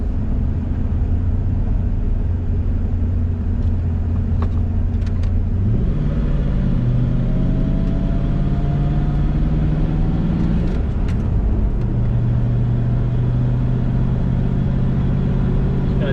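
A car cruising on an early-morning road trip to a car show in Harlingen, its engine a loud, steady drone from start to finish, with the pitch shifting as it changes gear around the middle and again later.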